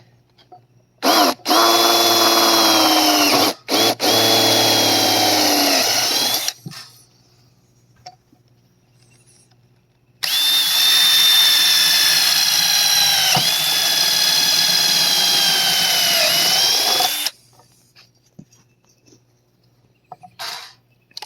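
A power drill bores a hole through soft copper sheet for a driftwood sail boat craft, running in two long, loud, close whining bursts with a pause between them.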